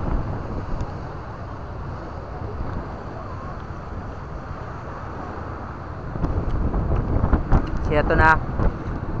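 Steady wind buffets the microphone along a seaside boulevard, a constant rushing roar that carries on under people talking, with louder gusts near the end.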